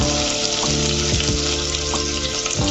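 Chopped capsicum, onion and vegetables for noodles fry in a hot pan, a loud, dense sizzle close up with a few quick stirring knocks.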